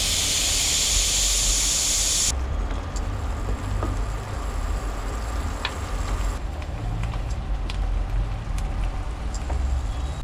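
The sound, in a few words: pressure cooker whistling in a camper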